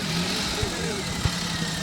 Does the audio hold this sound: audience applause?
no